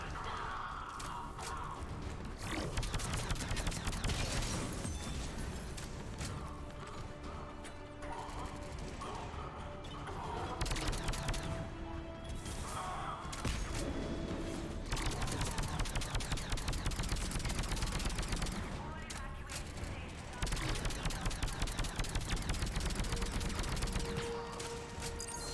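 Rapid bursts of gunfire with cryo ammo in the video game Mass Effect, sustained mechanical rattling volleys in several long stretches separated by brief pauses, loud and continuous, with faint talk in places.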